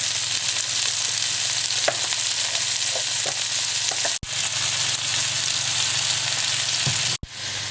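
Chickpeas and carrots hit a hot frying pan, giving a loud, steady sizzle with a few crackles and pops, close up and with no talking.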